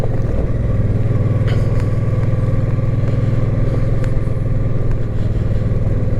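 A motorcycle rides along at steady speed, its engine a constant loud low drone close by, with no breaks or revving throughout.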